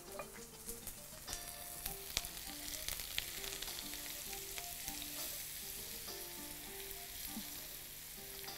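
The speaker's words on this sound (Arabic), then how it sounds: "هنحمر فيه البصل بدقيق" Onions frying with a spoonful of flour in a pan, a continuous soft sizzle with scattered spoon clinks and scrapes, fairly quiet and close, over faint background tones.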